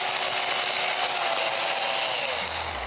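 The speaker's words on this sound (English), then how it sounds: "The chainsaw itself is slightly modified to cut ice." A chainsaw with a chain modified for ice cuts into a block during ice sculpting, a loud, steady, hissing grind with no pause throughout.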